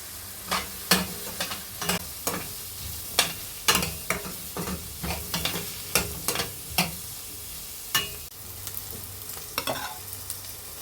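Ginger and garlic sautéing in a pan for a chicken curry with coriander leaves and green chilli: soft sizzling underneath repeated sharp scraping stirs of a spatula, irregular and close.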